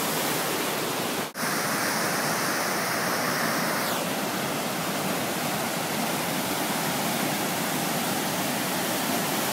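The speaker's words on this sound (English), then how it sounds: "Waterfall in Montana." A Montana waterfall roars as a steady, dense wash of rushing water, continuous and fairly loud, with a brief dropout near the start and no voices.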